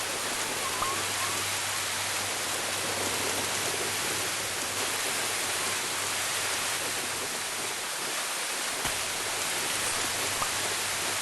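Steady, even rain hisses continuously without pause in a video game, a dense wash of falling water with no voices or other sounds standing out.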